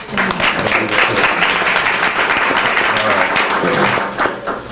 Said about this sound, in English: So we can give her a round of applause, please.